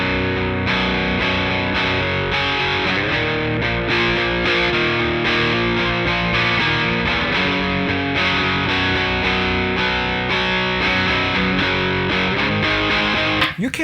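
An electric guitar played through a Big Muff fuzz pedal with the distortion turned down, a thick wall of sustained, saturated chords ringing continuously and loud, with no talking.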